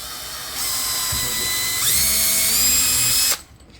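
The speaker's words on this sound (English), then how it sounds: "we're going to drill right on the X" A power drill spins up and bores a pilot hole in a Brooklyn PK13 kayak hull, a close, loud whirring whine that rises in pitch midway, runs steadily for about three seconds, then stops.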